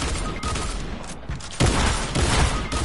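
Rapid bursts of video game gunfire, sniper rifle shots from a shooter match, loud and dense, with a heavier volley near the end and no talk over it.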